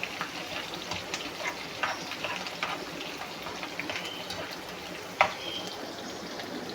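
Steady crackling sizzle of a tempering of finely chopped ginger and green chillies frying in hot oil, soft and continuous with a sharp pop partway through.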